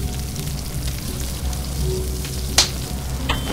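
Meat cooks over a campfire in the survival game Stranded Deep, giving a steady close sizzle and crackle like light rain, with one sharp pop partway through.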